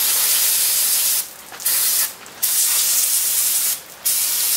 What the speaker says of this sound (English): For this job, I purchased 2 cans of brake cleaner, but more may be required, depending on your application.